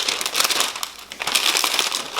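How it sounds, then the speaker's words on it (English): Parchment paper folded loosely over a block of chilled butter for croissant dough, giving close, continuous crinkling and crackling over about two seconds with no talk. "Fold the parchment paper over loosely."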